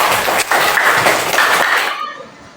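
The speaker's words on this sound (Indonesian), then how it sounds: "Oke, tepuk tangan untuk" A class applauds a group presentation, a brisk burst of many hands clapping close by that holds steady, then fades and thins out near the end.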